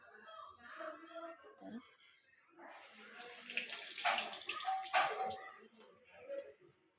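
Water splashes and trickles from a small container while hands are rinsed during making crispy urad dal vada, with bursts of splashing after a short spoken passage, fairly close and moderately quiet.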